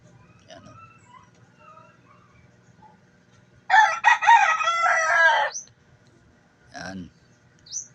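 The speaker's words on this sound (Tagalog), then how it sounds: "Maingay talaga itong manok" Rooster crowing loudly up close in a single long call, followed by a short squawk or cluck, with faint background clucks and a low ambient hum before it.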